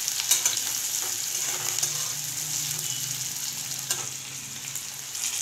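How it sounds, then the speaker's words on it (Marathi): Onions sizzling and frying in a hot pan for a Maharashtrian chicken rassa, a steady close crackling hiss with occasional stirring scrapes and no talk. "आता आपण कांदा टाकून घेऊ. कांदा पहिले करपून घेऊ,"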